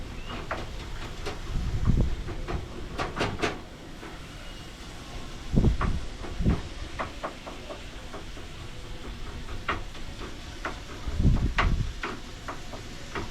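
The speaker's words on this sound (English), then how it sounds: "God, that wind!" Gusty wind buffets the outside of a cabin, swelling into three deep, rumbling blasts over a steady low roar, with no voices.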